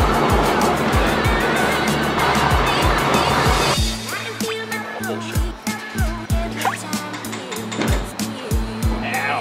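A drift-project car engine with a slight cam idles in a lumpy, uneven pulse that is fairly quiet, following a few seconds of dense broadband noise at the start.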